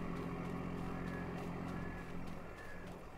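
A vehicle engine in Farming Simulator 22 idles with a steady, droning hum and a faint whine layered on top, running continuously at a constant level.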